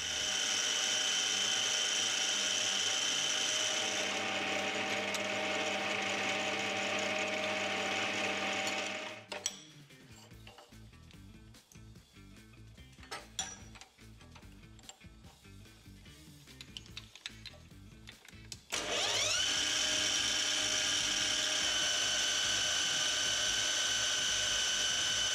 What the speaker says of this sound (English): I'll get this one faced and center drilled for some tail support.